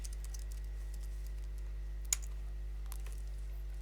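A name being typed on a computer keyboard: faint, sparse key clicks over a steady low electrical hum, with one sharper tap partway through.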